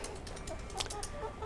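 Olive egger hens cluck softly inside a coop, a few faint, brief calls rising over a steady low background hum.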